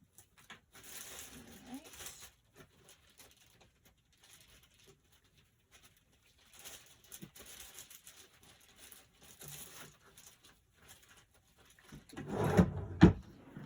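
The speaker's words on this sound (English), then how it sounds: "So let me dig in my drawer." Someone rummages through a drawer of small craft envelopes and pieces, with scattered soft rustles, taps and shuffles across the clip and a louder burst of handling near the end.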